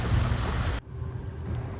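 A sailboat motoring under engine power on a sunny day among Norway's remote islands, a steady low engine drone with wind and water noise, louder at first and then quieter but continuous.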